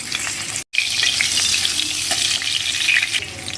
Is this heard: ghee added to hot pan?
yes